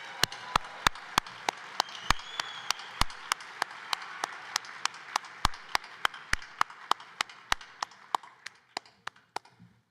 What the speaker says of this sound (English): people will clap till you get here.